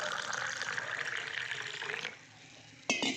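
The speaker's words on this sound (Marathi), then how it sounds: "आतमध्ये वरून असं कोमट पाणी टाकायचं." Lukewarm water pours into a glass holding two spoonfuls of energy drink powder, a soft close gurgling stream for about two seconds, then a pause and a brief final splash.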